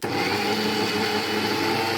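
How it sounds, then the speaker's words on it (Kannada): A mixer grinder whirs steadily as it grinds fried dry fruits, a constant high-pitched motor whine with a coarse churning texture, close and loud, with no talking. "ಇವಾಗ ಡ್ರೈ ಫ್ರೂಟ್ಸ್ನ ಗ್ರೈಂಡಾಗಿ ಮಾಡ್ಕೋಬೇಕು."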